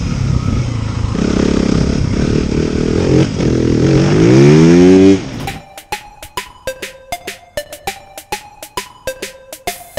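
A TM dirt bike engine revs loudly and rises in pitch, then drops to a rhythmic, popping idle with regular sharp bursts.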